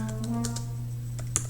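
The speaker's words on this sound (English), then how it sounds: "then you can start typing up your conclusion" Typing on a computer keyboard to write up a conclusion: sparse, fairly soft key clicks over a steady low electrical hum, with one sharper tap near the end.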